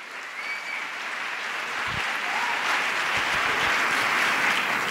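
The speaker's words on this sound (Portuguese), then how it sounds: "Você consegue aplaudir ao Senhor por esta palavra?" Church congregation applauding after a sermon, a steady broadband wash of many hands that holds for the whole stretch and swells slightly toward the end.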